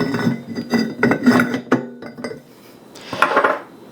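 Metal parts of a sausage meat grinder clinking and knocking as the auger is fitted into the housing, a quick run of sharp close clatters followed by a brief scrape.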